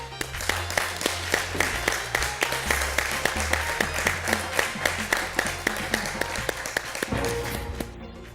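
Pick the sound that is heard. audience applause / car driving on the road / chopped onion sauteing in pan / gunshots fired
audience applause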